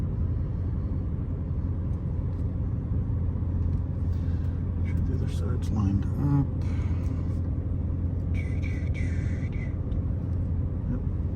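The engine of a C7 Corvette with a burble tune rumbles steadily and loudly as the car reverses slowly, a constant low drone with people talking over it.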